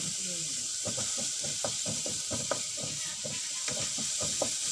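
Onions and green chillies sautéing with a little salt in a pan, giving a steady hiss with a run of quick rhythmic scraping and clicking strokes as they are stirred, close and fairly loud.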